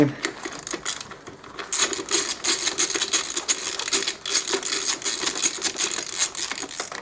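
Bolts are spun out of a motorcycle's rear brake caliper protector, a close busy clatter of rapid ratcheting clicks and metallic ticks that continues steadily with brief pauses.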